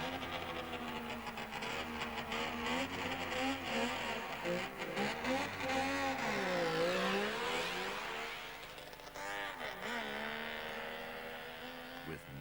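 Saab Formula Junior race cars with 90 horsepower engines speed down a rally course straight, engines droning and rising and falling in pitch as they pass, heard from a distance on an old film recording with a steady background hum.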